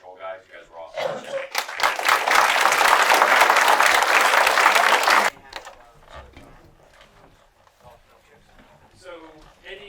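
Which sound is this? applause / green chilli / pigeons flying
applause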